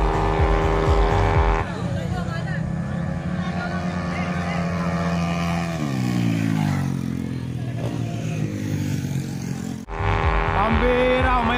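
Racing motorcycles in a drag race roar with loud, high-revving engines, pitch climbing and dropping through gear changes, then a sudden cut and another sharp revving burst, close and dominant with crowd voices faintly underneath.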